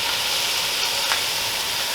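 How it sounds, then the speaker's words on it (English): Diced tomatoes and garlic fry in a skillet, giving a steady, broad hiss of sizzling with a faint stir partway through and a brief louder scrape near the end. "And I'm going to add my diced tomatoes"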